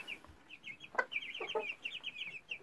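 Chickens cluck in short, repeated calls, with one bird's voice standing out at moderate distance against a quiet farmyard background.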